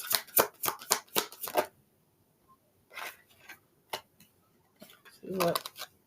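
Tarot cards shuffled and drawn in a series of quick crisp riffs and flicks, followed by a few isolated snaps and slides, close by with brief quiet gaps.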